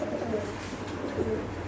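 Pigeons at a market cooing, low soft coos repeating close by over a busy background hum.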